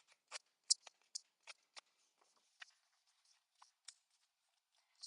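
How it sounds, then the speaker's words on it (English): Scissors snip repeatedly at paper edges to roughen them for a mixed media scrapbook page, a series of crisp, close, quiet cuts at an irregular pace with silence between. "I'm just going to continue to use my scissors just to roughen up those edges."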